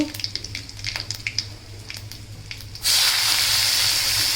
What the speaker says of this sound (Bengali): এখন আমি এই যে ছোলাটা ভাজা করব